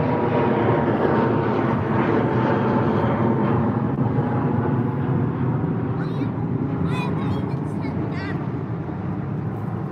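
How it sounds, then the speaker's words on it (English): A British Airways Airbus A320 departs Heathrow, its jet engines producing a loud, steady roar that fills the whole stretch, with faint voices underneath. "A320 off to Venice."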